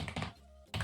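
Keys on a computer keyboard being typed while writing HTML in a code editor: a quick cluster of soft clicks, a short pause, then another burst, all faint and close.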